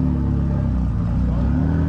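An Audi RS3 five-cylinder engine fitted in a lightweight KTM body revs close by, giving a loud, rumbling tone with harmonic layers that dip and rise over a couple of seconds.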